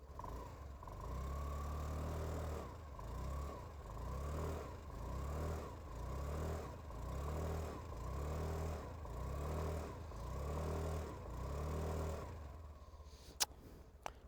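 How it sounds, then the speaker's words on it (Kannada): A Honda Activa 125 scooter idles and blips its exhaust in a steady low putter, with about eight regular rises and falls in engine pitch, moderately close, before the engine note drops away near the end. "ಸೊ ಗೈಸ್ ಗಾಡಿ ಎಕ್ಸಾಸ್ಟ್ ನೋಟ್ ಕೇಳಿಸ್ಕೊಳ್ಳಿ"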